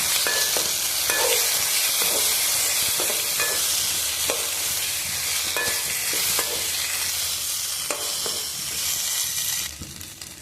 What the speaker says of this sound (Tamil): இதை அப்பப்போ கிளறி விட்டுக்கணும்